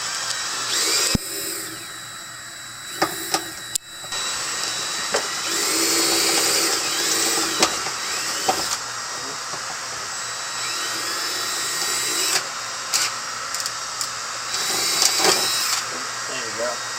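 A power drill whines in repeated bursts, starting and stopping as it drills out a metal rivet on a Nissan NV van, with someone talking between runs.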